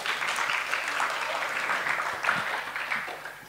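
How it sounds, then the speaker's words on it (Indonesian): A church congregation claps for God in a continuous, fairly even round of applause, moderately loud throughout and easing slightly toward the end. "Beri tepuk tangan dulu buat Tuhan dong."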